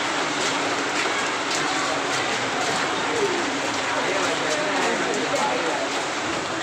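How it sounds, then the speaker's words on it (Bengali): Steady rain hisses outside without a break, a dense wash of drops close by with no clear voices over it. "বাইরে বৃষ্টি হচ্ছে মানে দেখাচ্ছি তোমাদেরকে"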